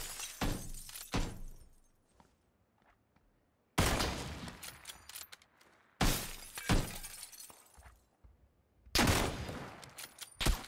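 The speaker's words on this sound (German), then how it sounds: "Ich schieß die ganze Zeit gegen diesen scheiß Holzrahmen, das gibt's doch nicht." Bursts of PUBG gunfire aimed at a wooden frame, loud sharp volleys in three or four separated bursts with quiet gaps between, cracking impacts ringing out after each shot.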